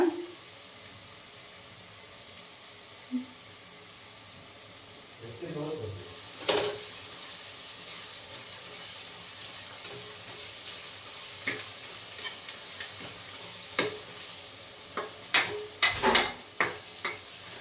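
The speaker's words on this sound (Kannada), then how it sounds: "ನೋಡಿ ಫ್ರೈ ಆಗೋದು ಕಾಣಿಸ್ತಾ ಇದೆ." Chicken frying in a pan, giving a soft steady sizzle with intermittent spatula scrapes and clatters that grow busier toward the end, close but fairly quiet, with a brief voice near the start.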